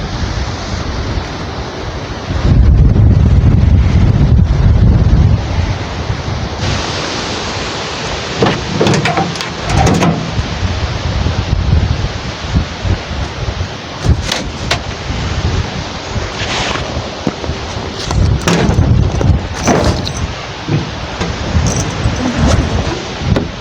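Strong wind gusts roar across a lake during a building storm, a loud continuous rumble of buffeting wind noise with heavier blasts, no talking.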